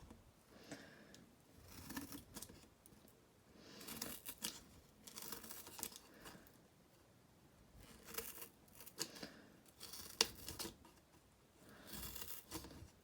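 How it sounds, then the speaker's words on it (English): Scissors cutting slits into cardboard, very quiet snipping and tearing bursts repeating every second or two, faint and close with soft rustling between cuts. "a little trick with scissors, especially with cardboard, because cardboard can be harder to cut"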